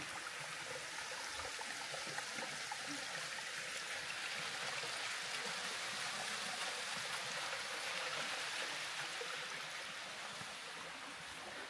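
River water flows near Rudradhari cave, a steady soft rushing and trickling stream heard from nearby, faint and unbroken, with no voices.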